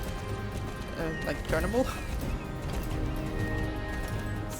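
Horse hooves clip-clop in the video game Star Stable during a pole bending run, a steady galloping patter under continuous talking.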